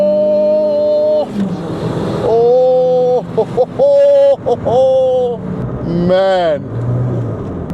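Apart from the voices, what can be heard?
turbocharged 200+ HP Baleno accelerating at 4000 RPM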